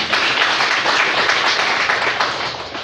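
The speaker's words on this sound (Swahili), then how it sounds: "Tupige kwa Yesu makofi" A church congregation claps hands for Jesus: loud, dense, steady applause filling the room, sustained throughout and easing slightly at the end.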